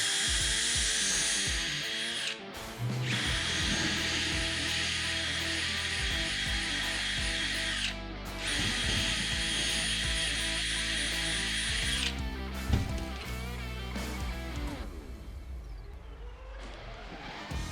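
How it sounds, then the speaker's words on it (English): A power drill whines loudly in long high-pitched bursts with brief pauses between them, pre-drilling holes with a 5/16 inch bit for lag screws into blocking, set against a steady mechanical hum. "pre-drill the holes for the 3/8 inch mounting lag screws with a 5/16 inch drill bit"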